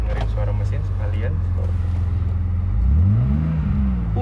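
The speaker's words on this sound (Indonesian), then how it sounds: "Dengerin suara mesin sekalian." A Mercedes six-cylinder engine tuned by AMG Japan, heard close up, idling with a steady low drone and then revving up and back down near the end; faint talk sits beneath the engine.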